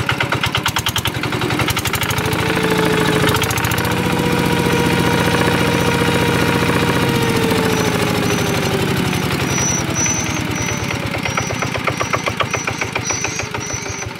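A Zanma SS 90 motorcycle engine idles smoothly and steadily up close, its even rapid firing pulses holding a constant loud level for the whole stretch with no talking.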